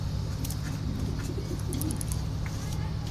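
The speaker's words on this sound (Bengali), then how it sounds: "এটা হলো 6 নম্বর কবুতরটা, এটা একটা নর কবুতর।" A male pigeon in a loft coos softly amid other birds, with faint chirps and soft background murmur throughout a short stretch.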